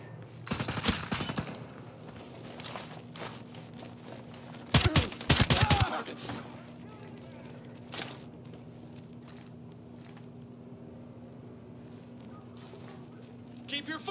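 An assault rifle fires in the tactical shooter Ghost Recon Breakpoint, in two short, loud bursts a few seconds apart, with scattered fainter shots and a low ambient hum in between.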